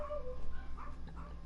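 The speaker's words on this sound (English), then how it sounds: "These dogs are going crazy." Several dogs barking and yipping excitedly in the background, fairly distant and muffled, with a steady low hum underneath.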